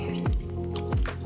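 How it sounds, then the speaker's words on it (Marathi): Cold water is poured into a cream mixture of milk skin being churned for homemade butter and ghee, giving two short liquid splashes and glugs close by, about a second apart. "तर मी यामध्ये थोडंसं थंड पाणी टाकते आहे."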